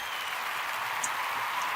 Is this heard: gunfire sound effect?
no